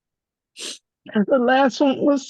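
A single short sneeze bursts out alone, followed a moment later by a person talking.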